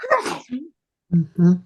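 A single sharp human sneeze bursts out at close range, then after a brief silence a quiet spoken response follows.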